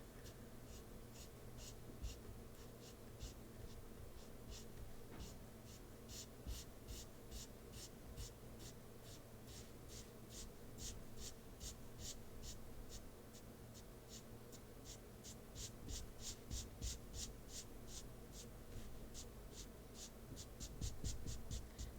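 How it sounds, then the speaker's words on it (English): A marker scratches across paper in quick repeated strokes during live drawing of a chibi orca, a steady close rhythm of short rasping swipes over a quiet room hum. "The way the marker is going on the paper is different from what I expected."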